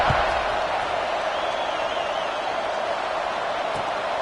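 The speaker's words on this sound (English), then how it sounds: "this crowd is buzzing after that last score" A stadium crowd at an Oregon versus Oklahoma college football video game produces a steady, dense, moderately loud roar with no distinct peaks, lasting throughout.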